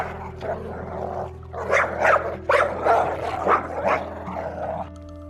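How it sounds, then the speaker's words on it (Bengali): Guard dogs in a cartoon bark in a quick run of several loud, close barks and yips, with steady background music underneath. "পাহারাদার কুকুরগুলো সজাগ হয়ে ঘেউ ঘেউ শুরু করলো।"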